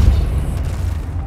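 The Depulso spell cast in the video game Hogwarts Legacy lands as a deep, booming blast followed by a lingering low rumble that fades over about a second, with no talk.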